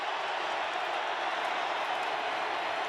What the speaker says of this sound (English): Crowd at full volume right now